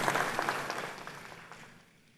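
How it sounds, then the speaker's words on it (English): Applause at an honorific lecture in Ghana for a Council of State member: a burst of clapping that starts strong and fades away over about two seconds, with no talk. "Shall we do a big round of applause for the Right Honorable Do Ajaho?"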